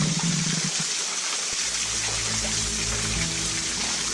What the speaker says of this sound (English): I found the waterfall.